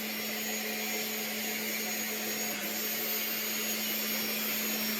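A 3D printer works steadily on the saucer section of a 5-foot Starship Enterprise model, giving a continuous loud mechanical hum with a constant tone and no pauses.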